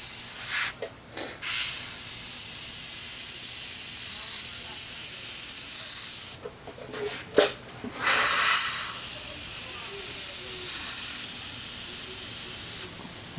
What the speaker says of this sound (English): Now you're just going to go over all your lines, make sure it sprays good.